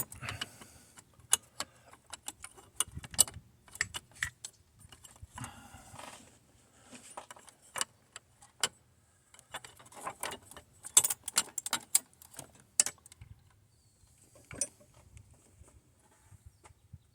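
Bolts going into a 1976 Chevrolet Corvette Stingray carburetor with the old gasket: scattered metallic clicks, clinks and jangling taps at close range, irregular and spaced out, with short quiet gaps between bursts.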